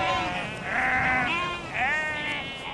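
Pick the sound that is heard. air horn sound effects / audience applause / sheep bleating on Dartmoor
sheep bleating on Dartmoor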